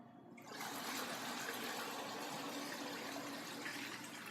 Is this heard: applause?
no